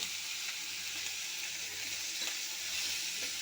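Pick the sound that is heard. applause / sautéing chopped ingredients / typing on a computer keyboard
sautéing chopped ingredients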